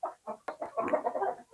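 Chickens in a coop on an Indonesian poultry farm cluck in short repeated bursts, close and fairly loud, with busier overlapping clucking toward the end.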